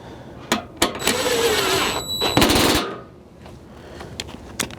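A power tool drives the top headlight bolt on a 2017 Subaru Outback, a loud whirring, rattling burst of about two seconds between sharp metallic clicks and taps, close to the microphone.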